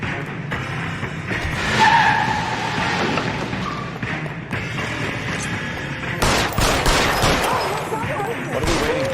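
Gunfire during a shootout in the video game L.A. Noire, bursts of loud shots mixed with tire skids and car noise, with brief voices underneath.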